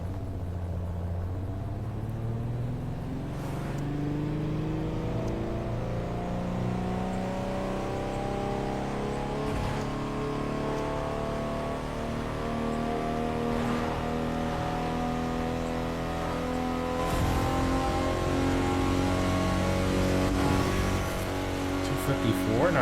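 A stock Koenigsegg Gemera accelerates on a top speed run, its engine climbing steadily through long rising tones that shift with each gear change, heard from inside the car over a constant rumble.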